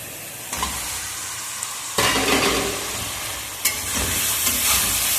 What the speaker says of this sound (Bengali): ঢ্যাঁড়সগুলো মা আলাদাভাবে ফ্রাই করছে না, এর সঙ্গেই ফ্রাই করে নিচ্ছে